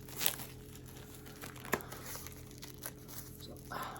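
Sealed plastic wrapper on an Elvis Change of Habit FTD book being torn open by hand: quiet, close crinkling with a few sharp snaps and rustles, no talk.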